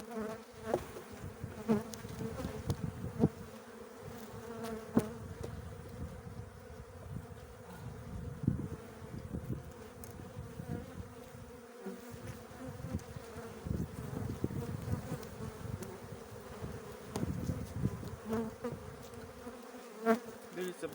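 A dense swarm of agitated honeybees hums continuously up close at an open hive, the buzzing rising and falling, with occasional soft knocks and rustling.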